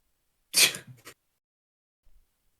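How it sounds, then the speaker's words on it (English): A single sharp human sneeze bursts out close to the mic, followed by a short breathy after-sound and a faint rustle, then near silence. "I sneezed."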